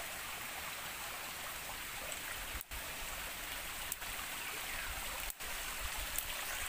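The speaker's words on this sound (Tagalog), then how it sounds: "mapapansin mo pa rin na mayroon pa rin mga umaagos na tubig." Steady broadband rush of flowing stream water, constant and fairly close, with no voices.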